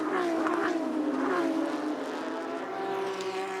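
Porsche Carrera Cup race cars lap Indianapolis Motor Speedway, their engines droning loudly with rising and falling pitch as they pass, and a continuous mechanical roar fills the clip without speech.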